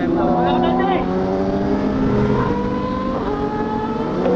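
A motorcycle passes on a road during a group ride, its engine droning loudly and steadily beside a running vehicle engine, with voices talking over it.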